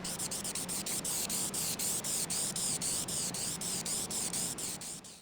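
A spray can lays standard clear lacquer over a wooden flag in a steady hiss, pulsing about twice a second as the nozzle sweeps back and forth, close and continuous.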